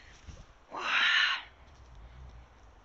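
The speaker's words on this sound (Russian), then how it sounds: "Птички поют." A single bird call rings out outdoors on a mild spring day, one clear, fairly close cry lasting about half a second over quiet background air, with no talking.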